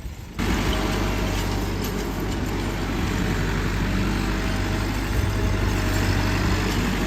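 A tractor engine idles close by with a steady low rumble and constant drone, starting abruptly after a short quiet moment and continuing evenly without change.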